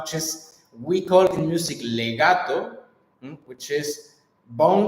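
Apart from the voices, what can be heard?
No everyday noises stand out.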